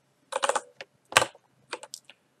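Quick clusters of keystrokes on a computer keyboard, close and crisp, in three short bursts with brief pauses between.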